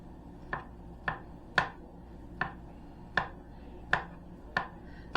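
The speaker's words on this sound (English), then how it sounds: "Just chop up your Anduie sausages." Andouille sausages being chopped with a knife on a board, eight crisp, evenly spaced knocks over a little under five seconds, close and moderately loud with no talking.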